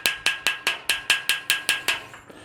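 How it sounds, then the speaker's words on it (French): A small tool raps an iron fence to knock off rust spots, nine sharp evenly spaced metallic taps ringing close and loud, then a faint scrape. "ou vous utilisez un petit marteau, ou moi avec ce truc, je tapote"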